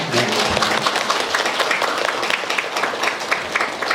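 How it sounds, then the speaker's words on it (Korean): Applause at a gallery opening for an exhibition of Buddhist stone carvings, a dense, steady wash of many hands clapping together in a room, loud and continuous, with some voices mixed in. "박수 치시나요?"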